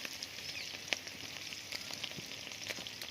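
Chopped green onion and green chillies sizzle steadily in hot oil while being stirred for a Gujarati green onion curry, a close, continuous crackle with a few sharper spatters and no talk.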